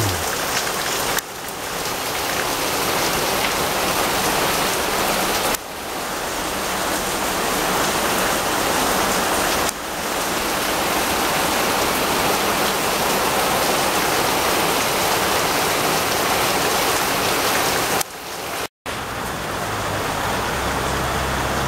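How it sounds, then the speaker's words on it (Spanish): Heavy rain from Hurricane Hilary in California pours down steadily in a dense, hissing roar, loud and unbroken, with a few brief cuts in the sound. "Y sigue lloviendo en este día 20 de agosto del año 2023"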